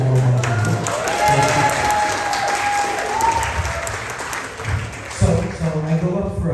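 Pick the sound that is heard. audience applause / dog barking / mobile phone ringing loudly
audience applause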